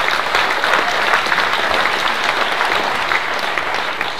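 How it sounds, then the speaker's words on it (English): Loud, sustained audience applause at a political talk on Scottish independence, a thick continuous roar of many clapping hands with no voices audible above it. "stop clapping"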